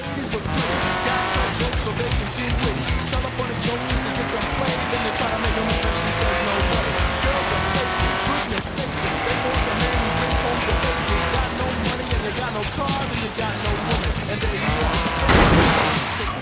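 A race car engine roars steadily with gear shifts and tire squeal, loud and continuous, in the racing game Forza Horizon 3; a voice is briefly heard underneath.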